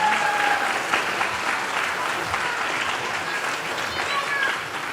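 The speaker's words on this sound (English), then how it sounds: "can we give them a big clap?" An audience at a school assembly claps steadily for young nursery and pre-K children, a continuous even patter of many hands heard throughout.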